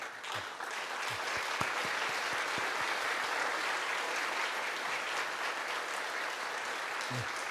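A church congregation claps steadily in sustained welcoming applause during a joint worship service, dense and even throughout, heard at moderate distance in an indoor hall.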